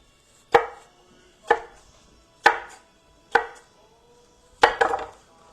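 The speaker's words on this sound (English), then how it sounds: "now the cucumber. A cut and a half," Knife chopping a cucumber for a panzanella salad: six sharp cuts against a board, roughly one per second with a quick double at the end, close and clear with no talk.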